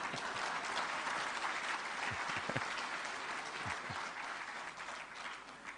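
An audience applauds during a speech at the launch of a Hindi TV news channel, a dense, sustained clapping that carries steadily throughout and tapers slightly at the end.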